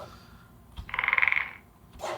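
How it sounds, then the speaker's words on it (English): A short frog croak layered into a creature sound design, a single rattling, pulsing croak of about half a second, fairly close and alone. "Here I have some frogs."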